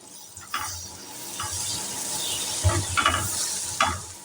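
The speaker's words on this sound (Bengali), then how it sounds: "এবার এর মধ্যে সামান্য একটু সাদা জিরা দিয়ে দিলাম।" White cumin seeds sizzle in plenty of butter over a very low flame for a butter garlic potato snack, a steady close crackle with a few sharper stirring clicks and no voices.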